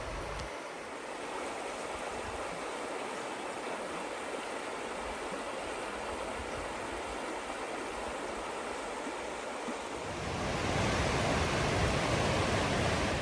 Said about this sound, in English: as you get closer to the falls, you will definitely be able to hear the roar of the water.